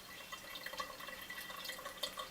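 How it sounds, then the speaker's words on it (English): Water trickles back into the basin of a ceramic pet drinking fountain, a soft, continuous patter of fine drips and splashes, faint and close, with no voices over it. "you can hear the sound of the backflowing water"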